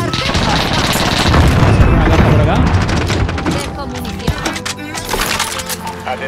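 Gunfire in a Call of Duty match, dense bursts of rapid shots and booms over the first seconds, then scattered sharper cracks, loud and close, with a voice talking over the action.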